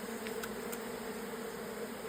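Honey bees in a hive make a steady, dense buzzing drone, close and continuous, with a few brief higher whines from individual bees passing by.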